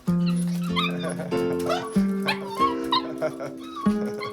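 Several adult dogs yip, whimper and give high whining cries in an excited greeting, loud and close, with overlapping tonal whines that rise and fall continuously, while a person talks over them.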